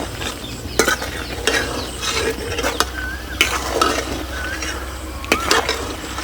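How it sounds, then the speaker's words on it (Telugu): Fried chicken pieces tossed and stirred into gongura pickle masala in a pan, with close, irregular scraping and clattering strokes of the spoon over a faint low sizzle. "దీన్ని 1 నిమిషం పాటు అలా కలుపుకొని ఫ్రై చేసి పెట్టుకున్న చికెన్ ముక్కలు వేసి కలుపుకుందాం"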